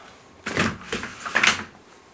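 Pet flap door in a house swinging and knocking, a quick sequence of three soft clattering bangs close by with no talking.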